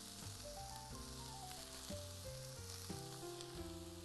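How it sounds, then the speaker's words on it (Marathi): Grated coconut dry-roasting in a pan gives a faint, even hiss of sizzling beneath louder background music, with no speech. "आता आपण याच्यात थोडंसं खोबरं टाकूय भाजायला"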